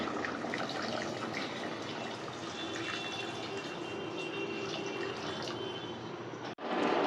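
Broth poured into a pot of egg and potato curry, a steady liquid splash and gurgle continuing for several seconds at close range before stopping abruptly.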